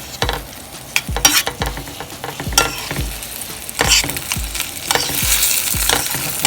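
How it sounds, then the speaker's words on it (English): Food sizzles and crackles in hot oil, with repeated scraping stirs and clanks of a utensil against the pan. "you want to get the oil hot. So you can kind of start frying it up"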